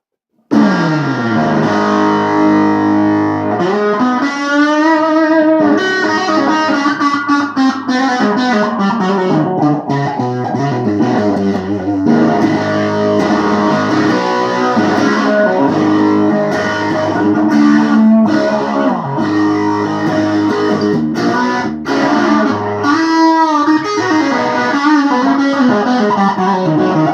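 Electric guitar with a crunchy overdriven tone plays a continuous bluesy riff with bends and chords, loud and upfront, no voices.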